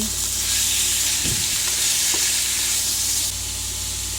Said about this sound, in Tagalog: And then, ilagay na po natin yung pusit. Giso po natin ng maigi.